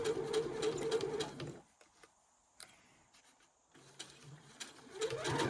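A sewing machine stitching wrap and roll slippers runs in quick, close bursts, pauses briefly with a few faint clicks, then starts stitching again.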